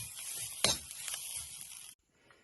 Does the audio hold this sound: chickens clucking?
no